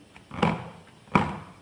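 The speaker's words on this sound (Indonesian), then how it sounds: "Sebelum kita masukkan ke dalam pengukusannya teman-teman, kita hentak-hentakkan terlebih dahulu kayak gini" Two sharp knocks about three-quarters of a second apart, made as steamer molds filled with palm-sugar apem batter of rice and wheat flour are tapped down on a surface to settle the batter. Quiet, close, with no talking.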